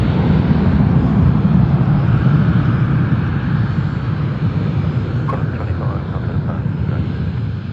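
An Airbus A330 jet airliner roars loudly at Sydney Airport at night, a broad, sustained engine rumble that slowly eases, with brief voices cutting in near the end.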